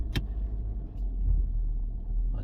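A 2025 Lexus GX 550 rumbles low and close as it creeps through a three-point turn in a tight space, with a sharp click at the start and a soft swell of engine noise midway.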